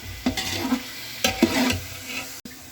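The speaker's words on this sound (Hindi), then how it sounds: "चिकन को हमने फ्राई करना है इसमें डाल के ना।" Chicken pieces fry in oil in a pan for biryani, sizzling steadily as a spoon stirs and scrapes them in several bursts of clatter, with a final sharp knock near the end.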